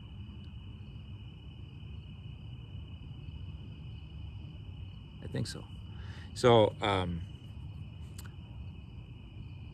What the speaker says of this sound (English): No, those are cicadas.